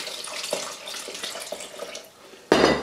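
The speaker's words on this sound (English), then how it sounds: "so I'm going to add the water." Water pours into a pan on a halogen hob for cinnamon flour porridge, a faint trickle with soft clinks, then a louder gushing splash near the end.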